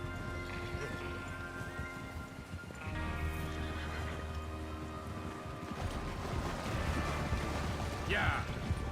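Horses in Red Dead Redemption 2 whinnying and snorting while hooves clip-clop steadily on the ground, a gang of riders setting off together, with a loud neigh near the end over a continuous bed of outdoor ambience.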